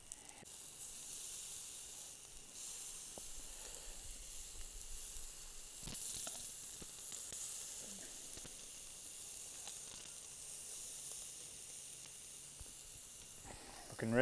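Thick pieces of garlic-seasoned chicken sizzle on a grill for tacos, a steady soft hiss running throughout with occasional faint crackles and no talking.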